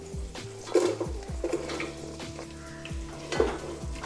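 Sliced onions frying in hot oil in a pan for an Easter chicken stew, a soft sizzle broken by a few clanks of a utensil against the pan, close and fairly quiet, with no talking.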